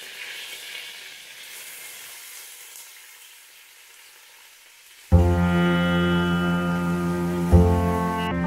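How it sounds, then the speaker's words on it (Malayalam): Vegetables for Kerala-style egg fried rice frying in oil over a fairly high flame give a soft, steady sizzle that is soon overtaken by a loud, droning harmonic tone that holds to the end. "അത്യാവശ്യം നല്ല ഫ്ലെയിമിൽ നമുക്ക് ഈ വെജിറ്റബിൾ വേവിച്ചെടുക്കാം."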